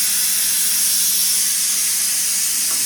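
A pressure cooker vents steam in a loud, continuous rushing hiss that holds steady without a break.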